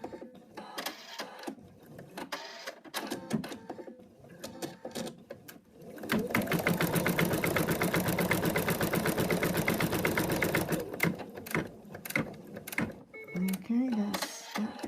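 An embroidery machine stitches a mouse design, its rapid, steady needle clatter loud and close for several seconds, with talk before and after.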